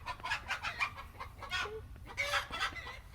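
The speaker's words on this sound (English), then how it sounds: "we have chickens making a lot of noise." Several chickens cluck and squawk close by in quick, overlapping bursts, a busy, excited chatter without pause.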